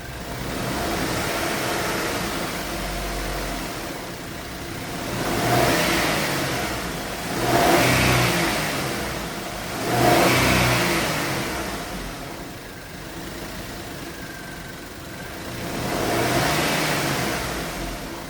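Maruti Alto K10 three-cylinder engine in a used car revved repeatedly from idle, with four or five swelling rises and falls over a steady mid-pitched idle, close and fairly loud, no talk.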